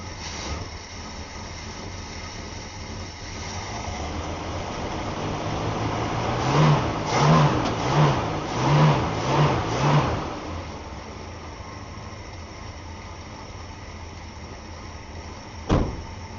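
A Dodge Coronet's engine cranks with the choke on, catches and revs in a series of rhythmic pulses, then settles to a steady idle with a sharp click near the end.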